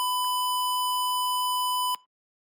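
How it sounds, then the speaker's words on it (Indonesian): An electronic alarm buzzer on a multi-sensor control and monitoring board holds one steady, piercing tone for about two seconds, then cuts off abruptly. It sounds alone, with no talking. "Kemudian buzzer yang sedang menyala ingin kita matikan"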